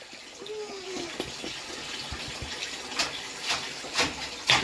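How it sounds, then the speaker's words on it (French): Water poured into a pot in a kitchen, a soft trickling stream that swells into louder splashing gushes toward the end. "Vous versez de l'eau comme ça."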